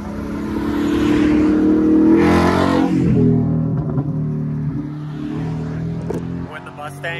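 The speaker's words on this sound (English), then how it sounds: "When the Mustang with no front bumper goes and revs up at the Honda boys." A Mustang with no front bumper revs its engine nearby, a loud rising roar that swells and then eases off, while people talk over it.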